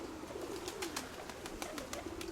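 Pigeons in a breeding loft give low, rolling coos that rise and fall steadily, with soft rustling behind them. The birds sound close and fairly quiet, and no one speaks.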